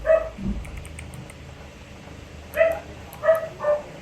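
A dog barks several times in short bursts, a pair of yips early on and a few more after a pause, sounding moderately close.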